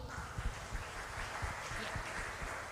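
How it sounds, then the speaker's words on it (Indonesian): Applause for Sunday school children at a church Christmas service in Denpasar, a steady broadband patter of many hands clapping throughout, fairly distant and moderately loud, with no speech over it. "tepuk tangan untuk adik-adik sekolah minggu"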